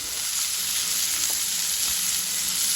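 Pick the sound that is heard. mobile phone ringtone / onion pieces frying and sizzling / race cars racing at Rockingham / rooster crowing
onion pieces frying and sizzling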